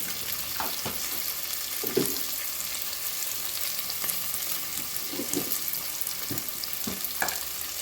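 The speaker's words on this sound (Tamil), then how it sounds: "இந்த வெங்காயம் வதங்கிறதுக்காக" Onions sizzle in hot oil for chicken biryani, a steady close frying crackle broken by several short scraping stirs of a spoon in the pan, no voices.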